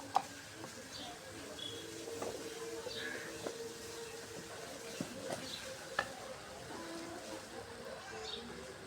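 Ginger, cumin and garlic paste stir-fry in oil with a faint, low sizzle, punctuated by soft scraping stirs and a few clicks of a utensil against the pan.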